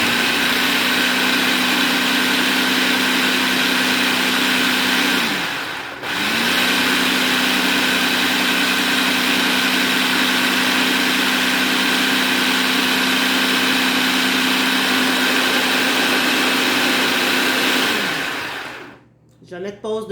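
A loud food processor puréeing cauliflower whirs continuously with a brief dip in motor speed partway through, then spins down near the end; no talking.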